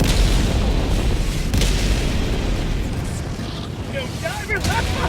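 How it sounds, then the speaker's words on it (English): Dense, rumbling booms and blasts from the video game Helldivers 2 pile up loudly, a continuous barrage of explosions with scattered crackles and higher chirps near the end. "And oh my god, the explosions."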